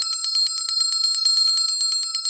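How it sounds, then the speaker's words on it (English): A bright bell rings continuously in rapid repeated strikes, loud and close, like an electric alarm or doorbell ringing steadily with no voices. "But do I need to ring my bell?"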